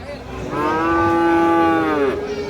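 A single drawn-out moo from a young cattle at the Tuban cattle market rises, holds for about a second and a half, then trails off, loud and close over faint market background noise.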